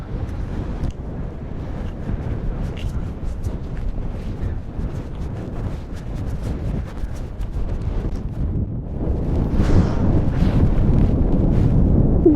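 Strong wind buffets the microphone on a sandy beach on Iceland's volcanic coast, a continuous loud roar that swells stronger toward the end.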